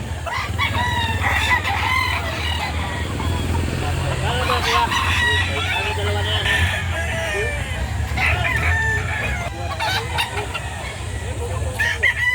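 At a busy rooster market in Lipa, Batangas, a tukong rooster and other fowl crow and cluck repeatedly, loud and close, over a steady crowd murmur with some people talking.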